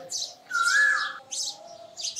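Sparrows chirping near a nest, with several bright, quick tweets in short bursts and one longer clear whistled note, close and fairly loud against a quiet background.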